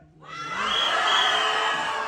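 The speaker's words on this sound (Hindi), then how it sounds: "इनको याद रहनी चाहिए ये तालियां और सीटियां जब ये ऊपर है।" A crowd at a film trailer launch event cheers, claps and whistles, swelling from near silence into a loud, sustained, dense roar that holds steady to the end.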